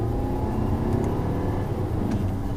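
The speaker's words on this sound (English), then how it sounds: "So then now in sport mode with the paddles, just doing a small acceleration" A 2019 Volkswagen Passat 2.0T SE R-Line accelerates gently in sport mode with paddle shifting, giving a steady, moderate engine drone and road noise heard from inside the cabin without talk.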